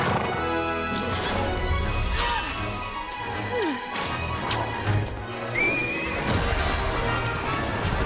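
A cartoon horse in the animated series Rapunzel's Tangled Adventure whinnies loudly, with galloping hoofbeats and crashing effects over a busy, continuous soundtrack.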